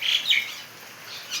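Small birds chirp in two quick bursts and then a softer one, fairly close, during morning rain at a feeding spot where they have come to eat. No voices.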